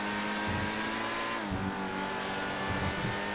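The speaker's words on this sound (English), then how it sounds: "I would have to get used to engine sound like this." Lamborghini Countach engine in GTA 5 Online, a steady loud engine drone with low rumbling surges and revving throughout, no talk.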